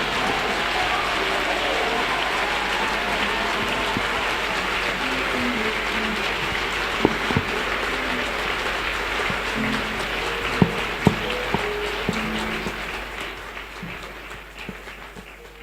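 A church congregation applauds and cheers in a steady, dense wash of clapping and voices that holds for most of the stretch before gradually fading.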